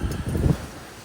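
Gusty wind blows outdoors around a house in the south, with an awning shifting in it; low, rushing bursts swell and fade over a second, moderately loud and without talk.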